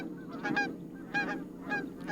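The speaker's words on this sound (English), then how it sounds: "A pair of Canada geese flies off, honking boisterously and disturbing the stillness of the marsh." A pair of Canada geese honk repeatedly in a rhythmic series of loud calls as they take off from a quiet marsh at Greys Lake, moderately close.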